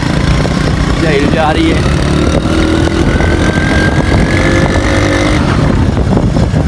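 A motorcycle rides through thick dust on sandy ground, its engine droning loud and continuous up close with wind buffeting, while a voice speaks briefly over it.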